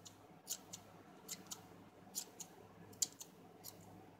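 Scissors snipping excess pieces off a handmade cotton candy squishy, with about eight or nine sharp, faint snips spaced irregularly in a quiet room.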